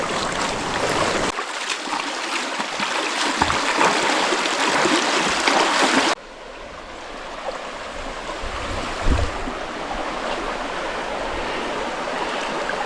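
Flowing water of the Genal river, a steady broadband rush that continues throughout, louder in the first half then slightly softer and more distant after a sudden drop, with no talk.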